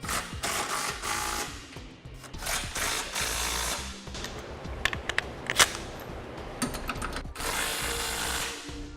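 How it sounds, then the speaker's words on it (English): Hand tools snugging down the half-inch trailer hitch bolts of a Curt receiver under a 2015 Ford Transit Connect, with steady ratcheting clicks and clanks of metal hardware running through, a few sharper knocks midway. "Then we can snug down all of our hardware."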